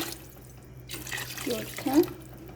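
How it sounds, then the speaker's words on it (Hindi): A glass of water splashes into a cooking pot as it is filled for potato and pea pulao, with a short close pour and slosh while someone talks. "यही गिलास हमारे 6 गिलास पानी के ऐड होंगे।"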